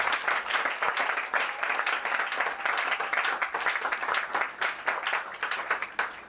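A church congregation at a Pentecost celebration claps loudly and steadily, a dense sustained round of applause from many hands with no speech over it.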